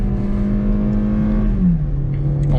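Volkswagen Polo 1.6 16V MSI with six-speed automatic pulling hard in Sport mode, a steady droning engine note from inside the cabin that holds then drops in pitch as the gearbox shifts, with no talk over it.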